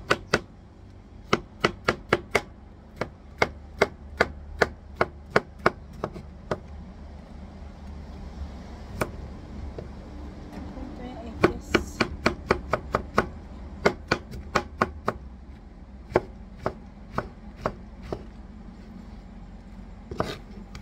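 Sponge gourd (patola) is chopped on a cutting board, giving sharp, close knife knocks that come in quick bursts and then slower single strikes across the whole stretch, with no talking.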